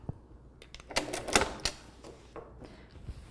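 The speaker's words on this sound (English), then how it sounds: "and then I'm going to stitch right off." A sewing machine runs a quick burst of stitches off the end of a dart, with rapid mechanical clatter peaking in the middle, then a few scattered clicks and taps.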